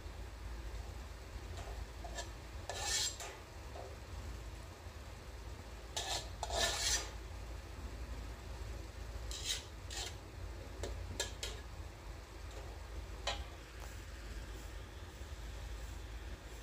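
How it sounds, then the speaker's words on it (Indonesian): Oncom, luncak and pete stirred in a pan with a spoon, giving repeated scraping and rasping strokes in short bursts over a low steady background hum. "Kita aduk-aduk lagi dan rasanya disesuaikan."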